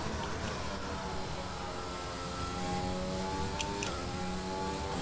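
Race car engine in the F1 2020 video game at Monza, screaming steadily and loud through a fast lap, its pitch rising and falling with gear changes, no talk over it.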